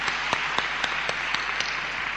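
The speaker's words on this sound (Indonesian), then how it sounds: "Mari beri tepuk tangan" A church congregation claps to welcome Pastor Florin from Romania, a steady distant wash of applause with a few sharper claps standing out at a regular pace throughout.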